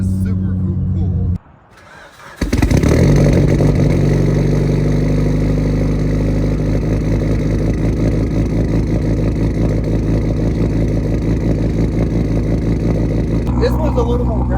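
A Mitsubishi Lancer Evolution engine barks into life and holds a loud, raspy, throaty rev that stays close and steady for about twelve seconds after a brief quiet moment.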